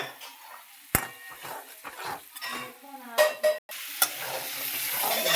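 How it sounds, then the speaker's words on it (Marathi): Masala roasting in a pan, stirred with a spoon that scrapes and knocks against the metal, including a sharp clank near the start, over a faint sizzle that grows steadier toward the end. "कसा भाजला मसाला बघू शकता तुम्ही."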